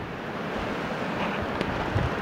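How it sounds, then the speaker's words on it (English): Storm-driven ocean surf rolls steadily onto a beach, a continuous broad wash of waves mixed with wind buffeting the microphone, heard alone without speech. "Waves are still rolling in."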